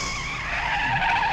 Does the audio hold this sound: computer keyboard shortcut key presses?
no